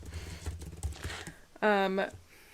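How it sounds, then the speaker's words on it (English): Soft tapping on a computer keyboard during an indoor podcast recording about crochet and yarn, faint clicks under background noise with a short tonal beep partway through. "You're typing away."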